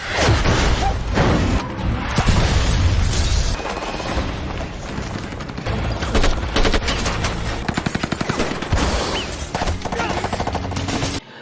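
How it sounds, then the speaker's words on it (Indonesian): Loud, dense gunfire from a film shootout in which an armed group attacks a convoy, with rapid machine-gun bursts, single shots and heavy booms packed together and continuing without a break. "rombongan mereka diserang sekelompok bersenjata dan terjadilah baku tembak"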